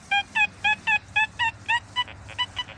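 Metal detector iron-falsing signal while sweeping over rusty iron in an old yard, a quick series of about ten warbly, chirping electronic beeps in a steady rhythm, close and clear with no talk.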